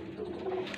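Soft, low pigeon cooing in a short burst, a murmuring warble over a faint background hiss.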